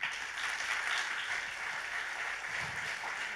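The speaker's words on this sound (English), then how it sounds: "maybe give them a very brief round of applause." Steady applause from a room of people at a demo day, a dense wash of clapping holding at an even level for a few seconds with no voices over it.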